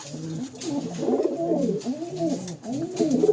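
A breeding pair of pigeons in a cage coo close by, a series of soft rolling, throaty coos repeating in overlapping phrases for a few seconds.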